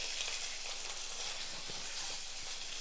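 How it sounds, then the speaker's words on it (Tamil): Mustard seeds, urad dal, curry leaves and dried red chilies fry in hot oil, giving an even, continuous hiss of sizzling that stays soft and steady with no voices. "கொஞ்சம் கடுகு உளுந்தம் பருப்பு, கொஞ்சம் கருவேப்பிலை சேர்த்துட்டு 2 வரமிளகாயும் சேர்த்துடலாம்."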